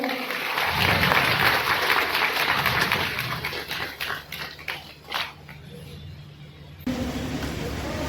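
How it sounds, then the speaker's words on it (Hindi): A crowd at an outdoor martyrdom day gathering at a Ramlila ground claps in welcome, loud at first then thinning into scattered claps, with some murmuring and a brief hum in the background. "आप सभी लोग जोरदार तालियों के साथ स्वागत करें।"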